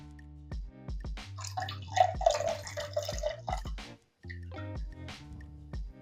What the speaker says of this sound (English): we're going to pour in our lemon juice now